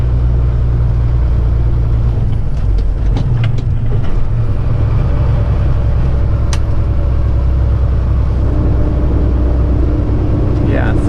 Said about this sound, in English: My throttle now is in the floor, maximum power.